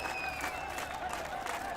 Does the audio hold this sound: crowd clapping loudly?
yes